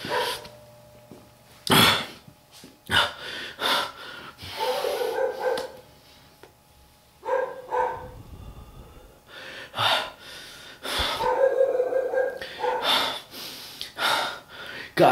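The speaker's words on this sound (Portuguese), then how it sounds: "Até os cachorros ficam incomodados aqui, ó." Dogs bark and yelp in bursts at mid distance, with a person talking and breathing heavily close by.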